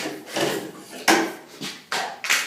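Hand saw cutting through 1-inch PVC pipe, a series of short rasping strokes in uneven rhythm, close and moderately loud with no talking.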